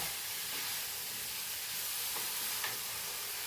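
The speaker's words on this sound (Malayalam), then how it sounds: "നമ്മുടെ വീട്ടിലെ കറിവേപ്പില നന്നായിട്ട് മിക്സ് ചെയ്യണം കേട്ടോ" Curry leaves are stirred into biryani in a pan under a constant hissing sizzle of steam and frying, with a few faint scrapes of the spoon.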